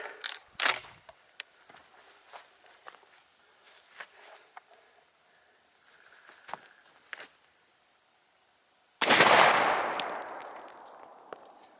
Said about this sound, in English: We're going to shoot with a slug, see what kind of a mess we can make